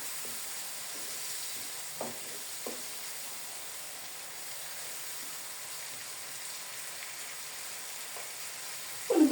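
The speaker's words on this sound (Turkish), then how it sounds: "Soğan, sarımsak, kıyma ıspanak için kavruluyor canlarım." Onion, garlic and minced meat sauté in a pan for a spinach dish, giving a quiet, steady frying hiss with a few faint utensil taps and a sharper clink at the very end.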